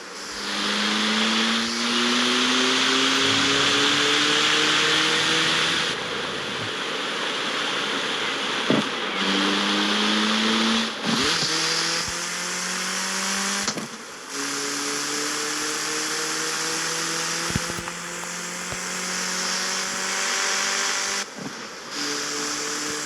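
A 200-horsepower Mitsubishi Eclipse on 265 tyres in the CarX Street racing game runs steadily along a highway, its engine note rising through the gears with brief shift dips, over a constant rushing road and wind noise.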